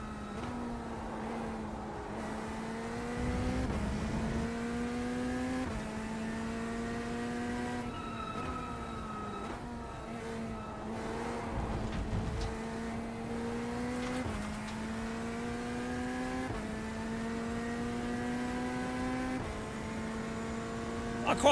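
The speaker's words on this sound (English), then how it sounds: "I quite like how this car sounds." Race car engine droning steadily with shifting pitch as it runs through gears, loud and continuous, with brief lower rumbles of passing cars on a racing circuit.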